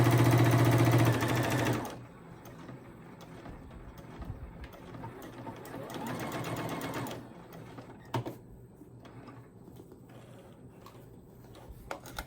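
A sewing machine stitches a cloth jar bonnet, a loud steady whirring run of about two seconds, then quieter intermittent bursts of stitching with small clicks and pauses.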